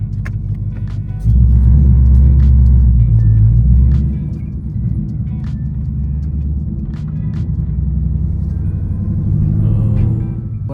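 A 2024 Ford Mustang GT S650 engine rumbles deeply at close range, swelling in a loud low surge early on, then settling into a steady idle-like drone.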